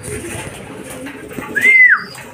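Racing pigeon lands at its home loft after a fun race, with a brief flutter and a short call near the end over soft background noise and a nearby voice.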